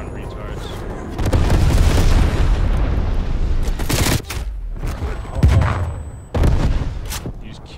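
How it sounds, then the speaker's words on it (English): Napalm strike explosions in Call of Duty: Warzone, with loud sustained roaring blasts and rumbling booms that swell and cut in repeatedly over several seconds, and a voice heard beneath the din. "Enemy napalm strike incoming."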